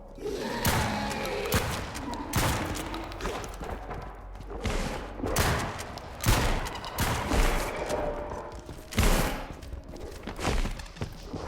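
Repeated gunfire in the shooter game Active Matter, with bursts of shots and heavy thumps spread across a busy, noisy soundscape and no voice over it.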